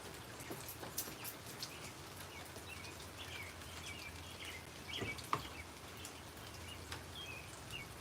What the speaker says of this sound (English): I gotta walk out in the rain.